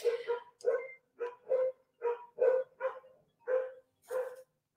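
Several dogs bark excitedly in a lively dog park, about ten sharp barks and yips in a quick uneven rhythm, close and clear with no talking.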